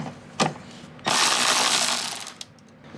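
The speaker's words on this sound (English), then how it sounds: "I'm just gonna unbolt this 10 mil" A ratchet loosens a 10 mm nut with washer during compressor work on a 2006 Honda CR-V air-conditioning system: one sharp click, then a dense burst of fast ratcheting for about a second before it stops.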